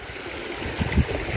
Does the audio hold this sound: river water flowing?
yes